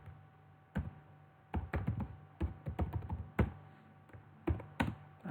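Fingers type on a computer keyboard while writing CSS styles, producing bursts of close, crisp key taps in uneven clusters with short pauses between, and no voices.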